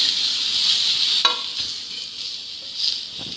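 Chopped tomatoes hit hot oil in a pan for egg curry, a steady bright sizzle with a few soft scrapes and taps from stirring.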